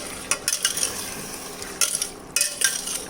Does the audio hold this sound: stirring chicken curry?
yes